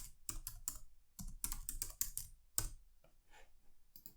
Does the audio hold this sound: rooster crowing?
no